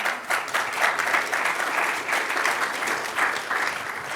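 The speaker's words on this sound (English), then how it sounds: "I would like to give a great applause to these women as well" Sustained applause from a sizable audience, dense clapping that holds steady throughout without any talking.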